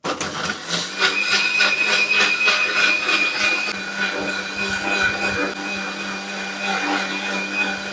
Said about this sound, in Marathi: आता हे आपल्याला मिक्सरला लावून घ्यायचं आहे.